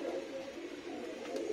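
Madrasi pigeons coo in a steady, continuous low murmur, several birds close by with overlapping throaty calls and no talking.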